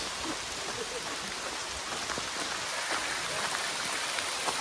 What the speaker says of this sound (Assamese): চাউণ্ডটো শুনিলে গম আছে কিমান টান হৈছে বৰষুণ জাক